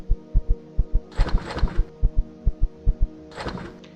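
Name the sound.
heartbeat sound from low stamina in Empyrion video game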